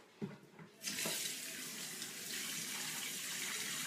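Tap water runs steadily into a sink while someone rinses their face, a brief splash and knock first, then a continuous close, bright hiss of flowing water.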